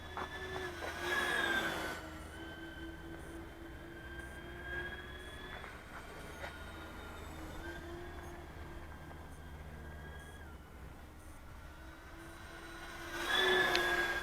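FlightLine F7F Tigercat RC model plane, a large twin-engine warbird model, flying with a steady whining motor tone that swells loudly as it passes close at the start and end, quieter and more distant in between.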